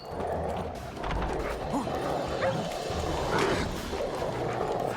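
Several dogs in The Witcher 3 bark and yelp continuously amid a busy game scene, layered with ambient noise and faint voices.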